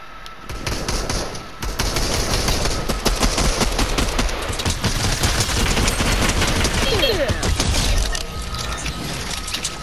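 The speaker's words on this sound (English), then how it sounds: "Somebody shooting." Gunfire in a video game, dense bursts of sharp cracks and rapid shots running nearly the whole time under excited player chatter and game noise.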